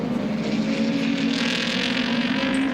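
A touring race car powers out of a turn at Oran Park in 1986, its engine a loud, steady, droning note with a strong, sustained pitch running unbroken throughout, close and continuous.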